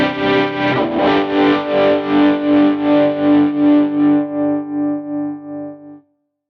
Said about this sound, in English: We also have a panner tremolo with the optical trim. Super organic, just beautiful tremolo, and this sounds fantastic on the drive as well.